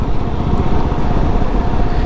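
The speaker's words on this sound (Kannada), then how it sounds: "ಅದು ಒಂದು ಬೈಕ್ ರೈಡ್ ಥರ ಆಯಿತು." A motorcycle on a road, its engine droning loud and close in a steady, continuous rumble without voices.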